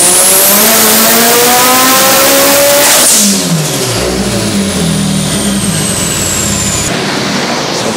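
Turbocharged Mitsubishi Evo 8 on a dyno doing a full boost pull, engine screaming loudly at high rpm with rising pitch, then a sharp drop and lower churning revs as wheels spin, no talk.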